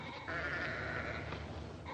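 A sheep bleats once in a 1952 comedy film scene, a wavering nasal cry lasting about a second over a noisy, reverberant film soundtrack with no speech.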